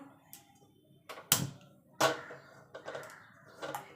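A few sharp clicks and metallic clanks in an otherwise quiet kitchen as a gas burner is ignited and a wok is set down.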